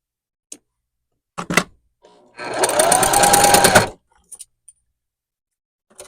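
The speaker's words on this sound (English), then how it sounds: "we're just going to 1/4 inch seam allowance and do a little stitch" A sewing machine runs a short quarter-inch seam on quilting fabric, a single burst of rapid needle whirring lasting just over a second, framed by scattered clicks and handling knocks in an otherwise quiet room.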